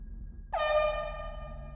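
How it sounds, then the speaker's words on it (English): A single sustained air horn blast sounds abruptly after a quiet moment, loud and tonal, then slowly fading while still holding, with no talk over it. "I hear the blast of the air horn, announcing that the 5 minutes were up."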